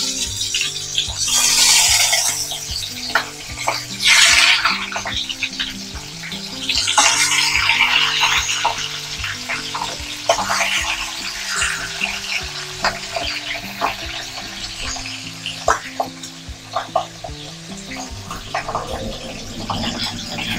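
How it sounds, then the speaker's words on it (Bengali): Sizzle of a large katla fish head frying in oil in a pan, loud and close, continuous crackle with occasional spattering bursts and utensil clinks, no talking. "ভালো করে ফ্রাই করে নেব।"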